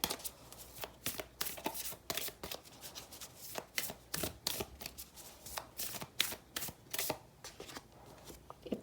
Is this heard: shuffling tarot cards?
yes